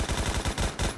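Rapid automatic AK-12 rifle fire in the game Phantom Forces, a tight unbroken burst of loud shots at a fast even rate, close and punchy, with a brief gap before the final rounds.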